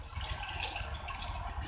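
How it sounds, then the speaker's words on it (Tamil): Water pours steadily into a pan of paneer and peas masala gravy, a continuous close splashing gush. "நான் கொஞ்சம் தண்ணி ஆட் பண்ண போகிறேன், ஒரு 1/4 கப் அளவுக்கு தண்ணி"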